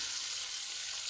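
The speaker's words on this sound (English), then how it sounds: "I'll stir fry it a little bit until it gets the right color" A soup base of lentils stir-fried in a pan, a close, steady hissing sizzle with no talk over it.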